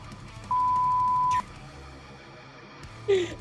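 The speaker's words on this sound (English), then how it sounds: "Please leave a message after the beep." A single steady electronic voicemail beep lasts about a second, followed by quiet room noise and a short rising chirp near the end.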